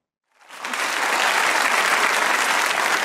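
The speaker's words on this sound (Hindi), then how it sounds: "जितने लोग क्राउड में चाहते हैं इनको ये मिले वो तालियां बजाएं।" Studio audience on a Pakistani comedy talk show bursts into sustained clapping that swells quickly after a brief silence and holds steady, dense and loud, with no talk over it.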